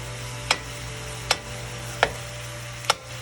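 Sausage fries in a pan for sausage gravy with a steady low sizzle, while four sharp scrapes of stirring land at roughly even intervals, close and clear.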